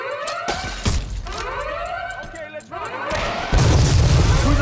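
A C4 charge detonates against a bank wall during a Payday 2 heist, a heavy boom amid wailing alarm sirens and gunfire, with shouting voices over the chaotic action.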